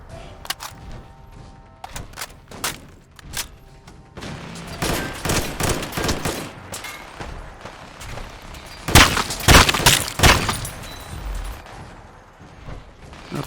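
Gunfire rattles in modded Fallout 4, first scattered single shots, then rapid bursts building to a loud, dense volley near the end, with a few booming thuds mixed in.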